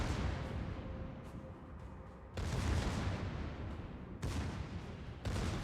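Secondary guns on a warship in a naval video game fire toward the Prince Eugen: three heavy, booming salvos spaced a second or two apart over a constant low rumble, with no talk.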